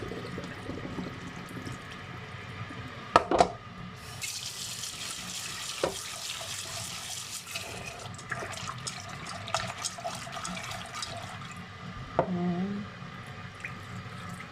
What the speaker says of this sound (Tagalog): tanggalin natin yung tubig.